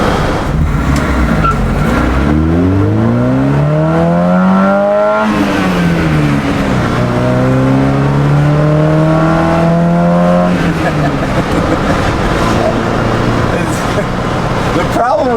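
Car engine cruising at 50 in fourth gear around 2,700 RPM on a Nevada drive, a loud steady drone with its pitch rising and falling gently in long sweeps, and someone speaking over it.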